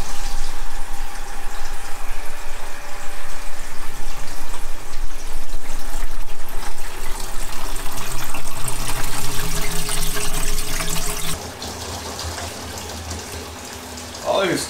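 Liquid wort is transferred and poured during a home brew day for a Mexican lager. A steady, loud rush of running liquid fills most of the stretch, then drops to a quieter flow near the end. A voice speaks over it.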